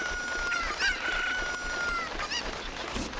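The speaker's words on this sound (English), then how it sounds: "Chicken is carrying us." A chicken in a video game clucks and crows close up, its shrill calls rising over a busy, noisy game background with no speech.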